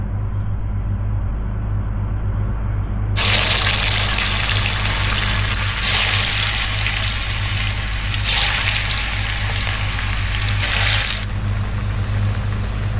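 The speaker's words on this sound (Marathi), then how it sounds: "तेल तापले आतां एका आंबड तांतू सोडया." A cabbage ambado fritter fries in hot oil on a medium gas flame, a loud, continuous close sizzle that swells in bursts as batter hits the oil.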